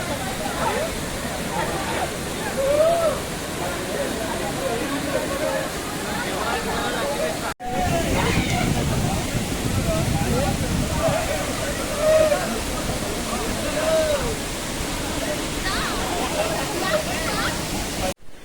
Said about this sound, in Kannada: ಬೆಟ್ಟದ ಮೇಲಿಂದ ನೀರು ಬೀಳ್ತಾಯಿದೆ.